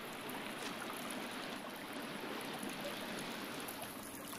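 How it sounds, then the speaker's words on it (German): In the video game The Forest, a waterfall inside a cave rushes in a faint, steady wash of water with no talk. "Das klingt irgendwie nach Wasserfall."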